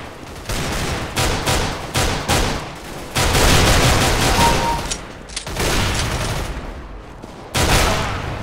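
Rifle fire in a CS:GO deathmatch, loud close bursts of rapid shots broken by short pauses, with a long continuous spray in the middle, no talk.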